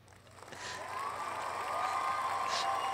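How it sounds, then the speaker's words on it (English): Crowd applause and cheering in a podcast setting, building from a light start into a steady, sustained wash of clapping and voices that holds fairly loud to the end. "So Steve, you get another clap. Or maybe you get a cheer."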